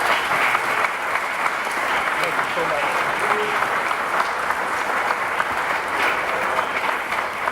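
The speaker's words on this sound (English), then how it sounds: "y'all give him a round of applause" Sustained, full applause from a crowd at a Martin Luther King Jr. commission ceremony in Harrison, Arkansas, with a voice briefly heard over the clapping.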